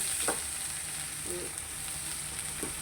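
Ginger and garlic go into hot oil already holding mustard seeds and fennel; a steady, soft sizzle runs throughout with a few faint stirring taps, and no one speaks.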